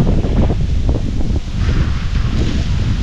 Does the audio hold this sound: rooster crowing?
no